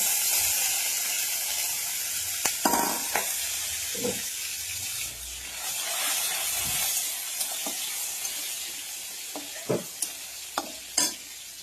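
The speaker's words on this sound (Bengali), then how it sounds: "কাঁচা লঙ্কাটা তেলে ভেজে নেব।" Green chillies frying in hot oil with spice seeds, a continuous close hiss of sizzling oil punctuated by scattered sharp pops and spatula clicks, with no talk.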